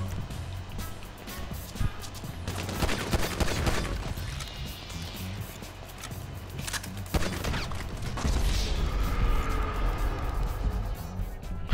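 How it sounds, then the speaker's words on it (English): Game gunfire in a GTA 5 multiplayer match, sharp reports and bursts scattered through a dense, busy mix of action noise, with a voice talking over parts of it. "That's not a machine gun, that was a pistol."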